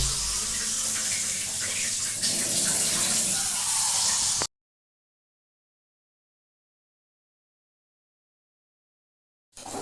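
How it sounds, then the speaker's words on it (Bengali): Water for chicken pulao streams from a tap into a measuring container in a home kitchen, a steady splashing pour for about four seconds before cutting to silence, then a brief resumption at the end. "তাই আমি একটু জল মেপে নিয়ে নিচ্ছি।"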